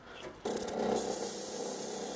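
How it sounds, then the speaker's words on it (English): A small power sander starts up and runs steadily against the edge of a wooden guitar template, giving a close, continuous buzzing rasp after a brief quieter moment. "I even use a small sander"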